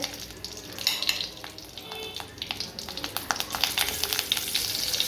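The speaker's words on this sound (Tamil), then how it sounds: "கொஞ்சம் கடுகு கடுகு பொரியட்டும் கடுகு நல்லா வெடிச்சிடுச்சு" Oil sizzles steadily in a pan as mustard seeds, curry leaves and dried chillies fry, with rapid crackles and small pops from seeds spattering, close by and fairly loud.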